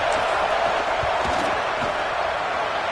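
Stadium crowd noise at a college football video game, a steady, loud roar of massed voices filling the field-goal attempt on fourth down, with no distinct cheers standing out.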